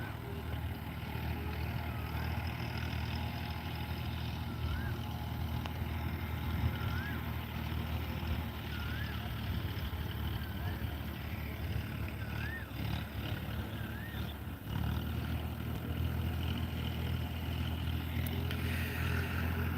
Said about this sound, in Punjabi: ਵੇਖੋ ਟਰੈਕਟਰ ਚੱਲ ਰਿਹਾ